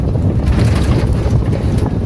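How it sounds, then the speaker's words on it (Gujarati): Cool morning wind rushing past a bus window: a loud, continuous low buffeting roar with steady rumble underneath and no voices. "મસ્ત ઠંડો ઠંડો પવન આવે"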